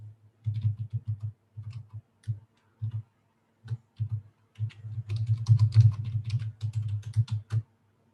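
Typing on a computer keyboard while entering a password, heard as close, distinct bursts of key clicks in short uneven runs with brief pauses, building into a longer, denser flurry of keystrokes near the end.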